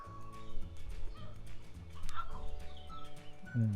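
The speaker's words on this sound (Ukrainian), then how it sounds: "Сусідські кури кричать." Neighbours' chickens cluck and squawk at a distance amid outdoor background noise, with a dog faintly barking too.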